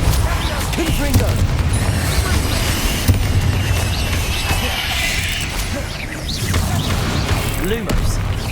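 Blasting spell explosions from the Confringo charm in the video game Hogwarts Legacy, booming impacts and crackling debris layered with mechanical clatter, loud and busy, with a voice speaking over the action.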